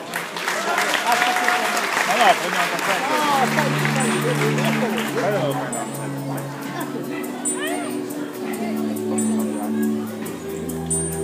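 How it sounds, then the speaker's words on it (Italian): Audience applause fills a hall at a 2015 Fornovo amateur talent show, La Corrida. It is loud and dense for about three seconds, then thins and carries on beneath a band that starts playing. "Applauso!"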